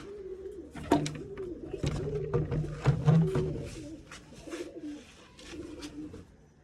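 Several pigeons coo in repeated rolling phrases, close and fairly loud, with a few sharp knocks and rustles in between.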